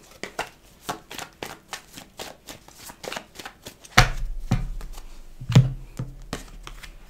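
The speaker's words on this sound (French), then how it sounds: "je viens de battre un peu les cartes" Tarot cards shuffled by hand in a quiet room, a run of soft, rapid riffling flicks giving way to a few heavier thumps and rustles as the deck is squared and handled, close and fairly faint.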